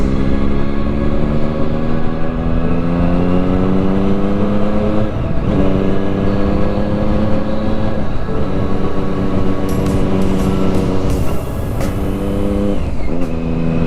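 A Triumph Daytona 675 motorcycle rides along a road, its engine a loud, steady drone whose pitch climbs and drops through several gear changes, with wind rush underneath.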